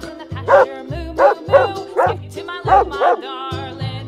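A dog barks and yips about six times in a quick, loud series, close up, over a steady background music beat.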